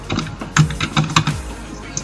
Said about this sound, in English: we're just going to type in a URL of where that website is